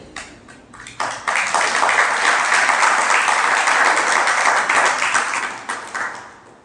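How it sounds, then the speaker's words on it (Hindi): Audience applause fills a Hindi spiritual discourse hall, rising sharply after a few scattered claps into a loud, dense, sustained round of clapping before tapering off near the end. "ताली किस बात पर?"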